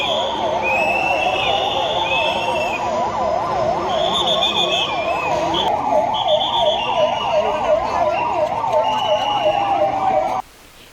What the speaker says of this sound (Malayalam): എയർ വാർണിംഗ് ലഭിച്ചതോടെ ജില്ലാ ആസ്ഥാനങ്ങളിൽ സൈറൺ മുഴങ്ങി.